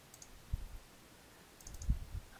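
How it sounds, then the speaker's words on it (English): A computer mouse clicks a few times, quiet and close, in short taps separated by near silence. "I'm going to click edit and then browse to"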